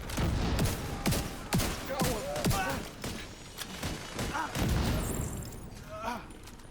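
Automatic weapons firing in a shooter game, repeated sharp bursts and heavy thumps spread through the clip, with a voice talking over parts of the gunfire.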